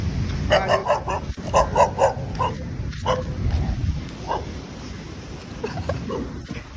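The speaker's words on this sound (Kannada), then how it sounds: "ಈ ನಾಯಿ ಏನಂದ" A dog barks several times in short bursts over a steady low rumble of background noise.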